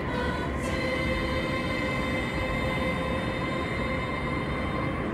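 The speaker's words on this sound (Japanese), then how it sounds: "この電車は高崎線高崎行きです" A JR Takasaki Line local train bound for Takasaki runs through Saitama, with a loud, steady rumble of wheels and motor heard from inside the car throughout.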